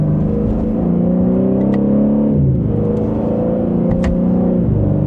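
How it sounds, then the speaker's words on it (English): A 2026 BMW M3 Competition twin-turbo accelerating hard through the gears, its exhaust note rising in loud revving sweeps that drop at each shift and climb again, heard close from inside with no talk. "Hopefully you can hear, it's got a good exhaust note to it"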